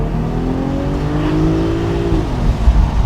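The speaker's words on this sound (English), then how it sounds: "Hear that nice 6-cylinder BMW action?" A 2026 BMW 840i xDrive convertible with a six-cylinder engine accelerating on the road, a steady engine drone rising in pitch and then shifting, heard from inside the car with no one talking.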